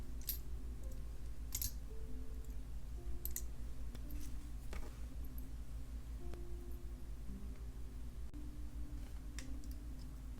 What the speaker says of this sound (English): now I'm going to grab the tail with another set of pliers and do a couple of wraps